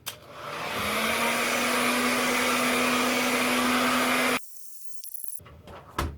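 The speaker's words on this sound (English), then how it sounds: "Okay, so I'm going to get back to blow drying." Hair dryer blow-drying hair during a DIY keratin straightening treatment, a steady loud whirring blast with a faint tone that runs about four seconds and then cuts off, leaving quiet handling noises.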